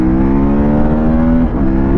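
Motorcycle engine on Pirelli Scorpion Trail 3 tires, loud and close, holding a strong steady revving tone that dips briefly as if shifting, then picks up again.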